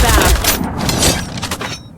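Rapid gunfire and headshot impacts crackle in a shooting video game, dense and continuous over the short span, mixed with speech.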